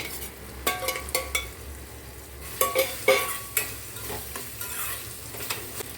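Chopped goat spleen stirring in a hot pan, a soft steady sizzle of frying under several sharp scrapes and clinks of a utensil against the pan, close by with no talking.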